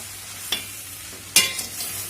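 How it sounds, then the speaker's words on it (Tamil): A spoon scrapes and stirs a potato mixture for bonda in a pan, with two sharp clinks against the metal over a faint steady sizzle, close and brief. "நான் எல்லா உருளைக்கிழங்கையும் போட்டு நல்லா அப்படியே கிளறி விடுங்க."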